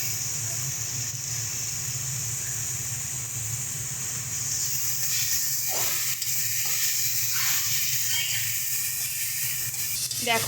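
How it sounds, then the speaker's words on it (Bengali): Spice paste for a pomfret fish curry fries in a pan, a loud, continuous close sizzle and hiss with a few sharper spits and stirring scrapes partway through. "মশলাটাই খুব ভালোভাবে কষিয়ে নিয়েছি"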